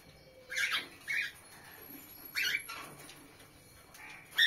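Pet cockatiel giving several short, bright chirps in bursts, fairly close but soft, spaced with quiet gaps in an indoor home setting.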